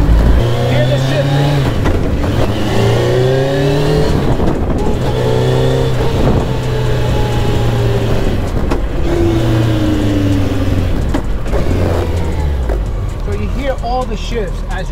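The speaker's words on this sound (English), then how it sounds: "As you're shifting, you hear every gear." Campagna T-Rex three-wheeler with a sequential gearbox, its engine revving up loudly and dropping at each gear shift, repeating several times in a steady rise-and-fall pattern while driving.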